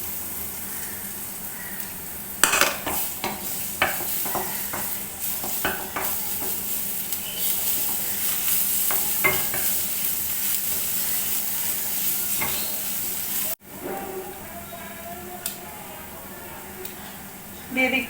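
Crushed garlic sizzles in melted butter while a paneer rice bowl is being cooked, a steady close frying hiss broken by the scrape and clatter of stirring, with a voice talking throughout.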